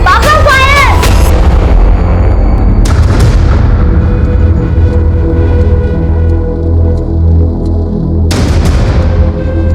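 Loud sharp blasts at the start and again near the end, with a booming, rumbling gunfire-like roar filling the gap between them.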